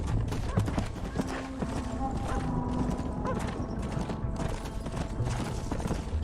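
Horse hooves clip-clop steadily at close range in the Western video game Red Dead Redemption, with a continuous dense background of rattling mechanical and livestock-pen noise throughout.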